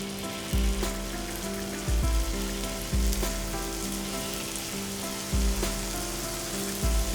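Jalebi batter frying in a full wok of hot oil gives a steady close sizzle, with louder crackling bursts recurring roughly every second and a half as more batter goes in.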